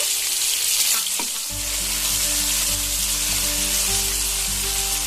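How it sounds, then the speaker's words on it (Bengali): Tomato sizzles steadily in a hot pan, a continuous crackling fry with a low hum underneath and no talking. "টমেটোটা আমি খুব ভালোভাবে লাল করে ভেজে নেব।"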